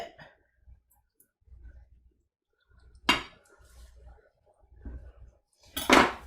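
A knife cutting into a creamy Cambozola blue cheese wedge on a plate, with a few soft clinks and two sharper scraping clatters of blade on dish, close and sparse with quiet gaps.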